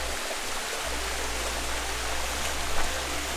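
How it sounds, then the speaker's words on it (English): Near the top of a Bali waterfall with natural pools, water rushes in a loud, continuous roar that holds steady throughout, heard close up with no voices. "I am standing at almost the top of a waterfall in the middle of Indonesia"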